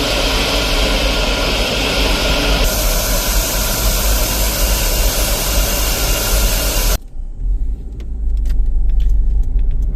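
Steady, loud road rumble from a car cruising near Queenstown airport, with a dense engine and tyre roar that shifts in tone partway through and then continues with scattered clicks and rattles inside the cabin.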